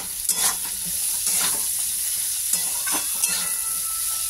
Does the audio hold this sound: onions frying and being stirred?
yes